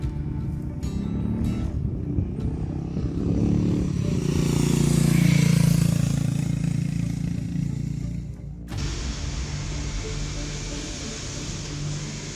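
A Harley-Davidson X440 motorcycle engine hums and swells as it passes by, then gives way to a steadier, quieter engine drone.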